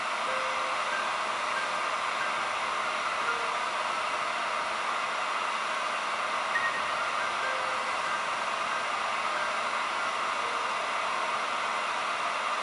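A heat gun blows a steady, even hiss of hot air while softening pipe for a homemade kayak cart, a constant whooshing drone that stays level throughout with no speech.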